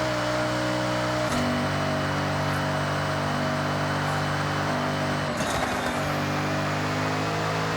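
A Datsun 240Z engine in the Forza Horizon 6 video game runs steadily at a low, even idle, then the pitch shifts briefly as it blips and settles again, loud and alone without talk.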